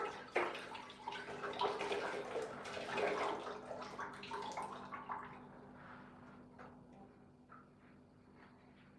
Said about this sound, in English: We're gonna wash the cucumber